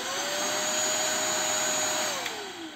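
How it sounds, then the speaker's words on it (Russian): A cordless vacuum cleaner runs with a steady high-pitched motor whine and airy rush, close and continuous, dipping slightly in pitch toward the end. "Включается пылесос просто нажатием на курок."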